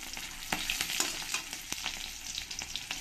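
Cumin seeds, bay leaf and dried and green chilies fry in hot oil with a continuous crackling sizzle and scattered sharp pops, close and moderately loud, with no one talking.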